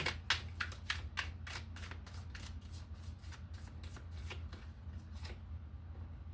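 A deck of tarot cards being shuffled, a quick run of crisp riffling flicks and snaps close by, repeating in bursts over a low steady background hum.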